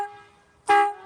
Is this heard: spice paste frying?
no